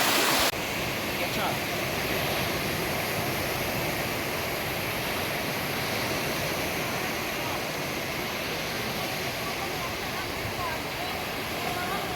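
Khoiyachora waterfall in Sitakunda, a steady broadband roar of falling water that stays loud and unbroken throughout, with no talk over it.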